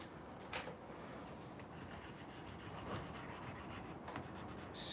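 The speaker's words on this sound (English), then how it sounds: "Scrape off some of the goo." Dried paint goo being scraped off a paint palette, a soft, quiet rasping rub that continues unevenly, with a couple of slightly sharper scrapes.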